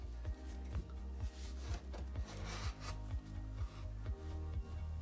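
A narrow cardboard pillar for a cat scratching tree being pushed in and twisted into place, giving a steady run of rhythmic rubbing, creaking scrapes roughly twice per second, close and alone.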